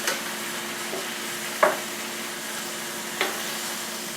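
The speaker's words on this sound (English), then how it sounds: "You can hear it sizzling. I don't flour my meat, and it's getting a little brown now." Unfloured beef sizzles steadily while browning in a pot, a constant hiss broken by a couple of scraping stirs.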